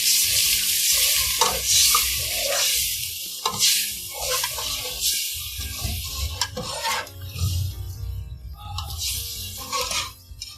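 Loud sizzling and frying with a spoon stirring and scraping a pan, the hiss surging as water from soaked moong dal hits hot oil and fried spices, continuing for several seconds.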